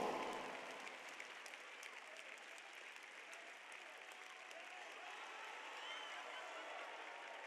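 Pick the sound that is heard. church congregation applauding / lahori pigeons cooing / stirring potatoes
church congregation applauding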